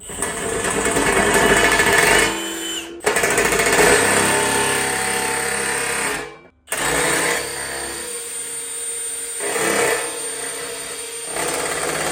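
A loud Milwaukee power drill grinds steadily through thick sheet metal, briefly cutting out twice before resuming with a harsh, continuous whine.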